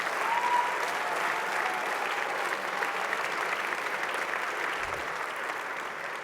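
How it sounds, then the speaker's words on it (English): A banquet audience at the Space Technology Hall of Fame dinner gives a round of applause for the 2021 inductees, with even, continuous clapping throughout that tapers slightly at the end. "Another round of applause, please."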